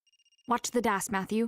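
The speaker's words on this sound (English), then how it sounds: "That's the phone." A telephone rings briefly in the video game Another Code: Recollection, a steady tone faintly at the start before a voice speaks over it.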